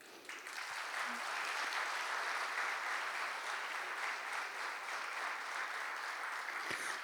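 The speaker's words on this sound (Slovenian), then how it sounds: "Z velikim aplavzom pozdravimo vse naše nocojšnje udeležence." An audience at an ethnic folk festival in Hrastnik claps in sustained, dense applause that starts abruptly and holds steady at an even level from start to finish.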